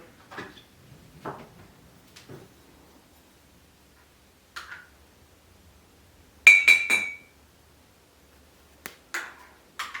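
Homemade cream being spooned into a glass jar, giving scattered light clinks and taps, with one brighter cluster of rapid glassy knocks midway, close and otherwise quiet.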